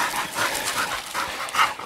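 Pig hunting dogs in North Queensland pant in quick, ragged rhythmic breaths, close and steady throughout, with no talk over them.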